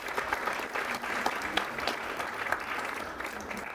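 Sustained clapping from an audience at a Slow Food Martha's Vineyard event, a dense, steady wash of many hands at even loudness throughout, with no voices standing out.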